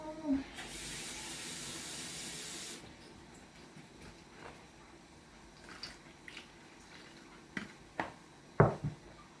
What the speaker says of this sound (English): Water in this bowl.